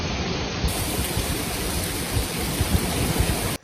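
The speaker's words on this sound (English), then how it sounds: "So the rain's coming back in" Steady rain pours down outdoors over a food plot in Southern Illinois, a dense, even hiss with no voices that holds at a constant level for the whole few seconds.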